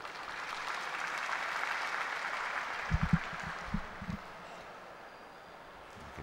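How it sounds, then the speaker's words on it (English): Soft, distant crowd applause fills a pool hall during a World Cup of Pool match between Poland and Vietnam in the Philippines, a steady patter that tapers off, with a few low thumps near the middle. "Hear the applause from the crowd."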